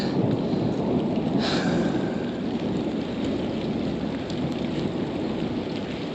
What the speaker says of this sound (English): now we're having this storm